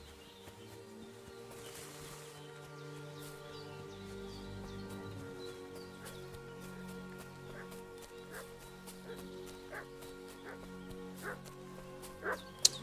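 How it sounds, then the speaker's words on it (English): Dog barking in the medieval video game Kingdom Come: Deliverance 2, a series of faint, scattered barks and yips over a steady game music and ambient bed, growing slightly sharper toward the end. "What's that dog making such a fuss about?"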